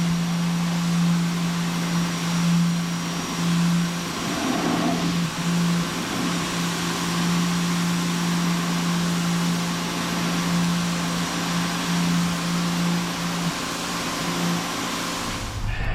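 A pressure washer fitted with a 15-degree nozzle sprays mold off a surface, producing a continuous droning motor hum with a steady tonal buzz, broken by a brief surge of hissing spray near the middle.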